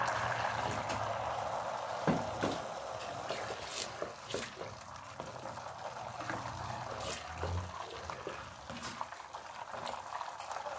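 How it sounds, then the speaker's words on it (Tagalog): Water is added to a pan of homemade siomai while it cooks, giving a continuous bubbling, sizzling hiss with scattered pops and drips, close and moderately quiet. "Lagyan natin ng kunting tubig."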